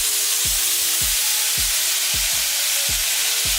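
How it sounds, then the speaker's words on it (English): Minced garlic sizzles loudly in a frying pan, a steady bright hiss broken by regular low scraping knocks of stirring about every half second. "That sizzle is amazing."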